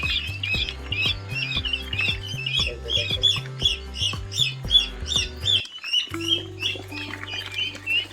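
Many chickens, including Kadaknath, squawk and chirp over and over in a crowded, busy chorus on a farm at night, with a low steady droning tone running underneath.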